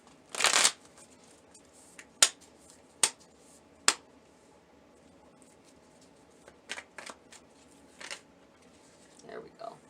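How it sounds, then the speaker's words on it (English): Tarot cards are shuffled in a brisk riffle, followed by a series of sharp single card snaps and flicks spaced irregularly, close by with faint room noise between. "I think I need to shuffle"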